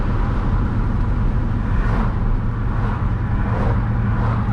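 A 6.0L Chevrolet Silverado truck fitted with traction bars accelerates hard on a road, a loud, steady engine roar with a slight surge partway through and no talking.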